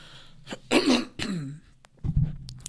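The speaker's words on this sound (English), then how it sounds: "I'm grossed off by your cough." A person coughs a few times, harsh and close, with a throat-clearing rasp and short breaths between the coughs.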